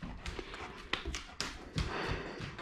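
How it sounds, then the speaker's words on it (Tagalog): Pet dog Toby moving restlessly indoors, with soft close panting and scattered taps and scuffs of paws or body bumping around, a few sharper knocks standing out from the low shuffling. "Pasensya po sa aso ko, makulit."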